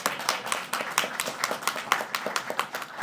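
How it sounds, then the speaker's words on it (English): A crowd claps in a dense, steady burst of sharp hand strikes, close and moderately loud, with no speech over it. "applaud your work for what you do"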